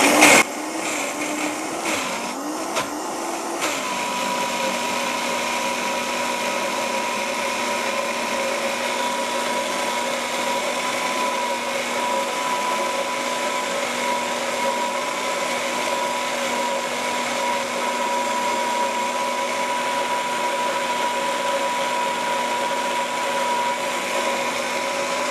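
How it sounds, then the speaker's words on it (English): A Vitamix blender runs at high speed, a loud steady whine and roar that settles into a constant pitch after a brief uneven start and continues without a break. "Now with the Vitamix, you can make this super, super creamy."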